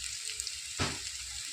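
Cumin powder and chili powder frying in hot oil with green peas, a soft steady sizzle with one louder scrape of the spatula midway, close and quiet.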